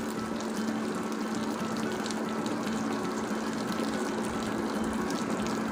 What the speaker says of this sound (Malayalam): ഫ്രൈ ആവുന്നതിനനുസരിച്ച് തിരിച്ച് ഇങ്ങനെ ഇട്ട് ഓരോ സൈഡ് ഫ്രൈ ചെയ്ത് എടുക്കാവുന്നതാണ്.